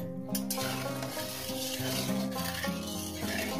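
Salt hits hot oil in a wok while cooking rohu fish curry, giving a continuous close crackling sizzle with occasional stirring scrapes and a steady low tonal hum underneath.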